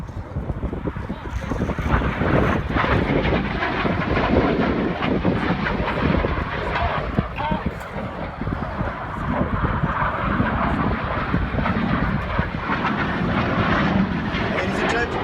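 RAF Red Arrows jets flying low at the 2019 Miramar Air Show, a continuous loud engine roar with wind buffeting the microphone, and an announcer's voice running beneath it.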